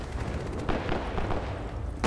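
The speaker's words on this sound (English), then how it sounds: "I hear a pilot shooting." Gunfire from a pilot in the video game Titanfall 2 comes as a dense, loud burst of booming shots and rumbling blasts over about two seconds, filling the game's soundscape without talk.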